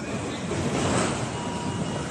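Cyclone Chido's strong wind roars steadily at a hospital in Mayotte, a dense broadband rush buffeting loudly and continuously throughout with no pauses.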